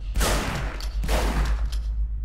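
A shotgun fires in the video game Scourge: Outbreak, with two loud, close, booming blasts about a second apart, each trailing off quickly, and no talking.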